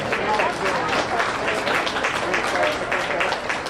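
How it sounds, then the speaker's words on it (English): Spectators at a dairy goat and dairy cattle show applaud the young exhibitors in the ring, giving brisk, lively clapping throughout, mixed with voices talking. "Let's give a round of applause to all of these young men in the ring today."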